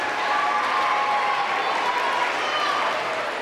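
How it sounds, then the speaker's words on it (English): Audience applause at a school awards ceremony for sixth and seventh graders: a steady wash of many hands clapping in a large room, sustained and moderately loud, with no pause. "Give them a round of applause, please."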